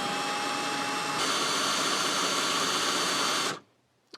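A Ferrex 12 volt cordless hammer drill runs at high speed, a loud steady whine with a shift in pitch partway through, then cuts off abruptly and leaves near silence with one faint click.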